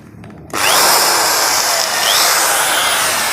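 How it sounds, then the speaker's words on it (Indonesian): A power drill starts abruptly after a brief quiet moment and keeps whirring at a high, steady, loud pitch close by, run from a low-wattage household electrical supply. "Kita pasang bor,"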